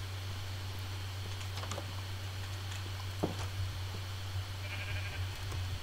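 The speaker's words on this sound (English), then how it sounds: "That is a sheep." Minecraft sheep bleating in-game, a bleat or two sitting low in the mix over a steady game hum and background noise, with no talking.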